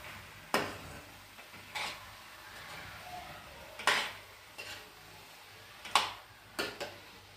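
Mango chutney being stirred in a pan over low heat: sparse, sharp clinks and scrapes of a spoon against metal a second or two apart, over a faint low hum, quiet and close.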